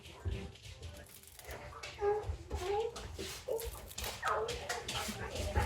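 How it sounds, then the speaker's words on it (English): Dogs wrestle in a home kitchen, giving short yips, whimpers and playful growl-like barks in uneven bursts close by, with a voice talking through and between the noises. "the dogs are wrestling"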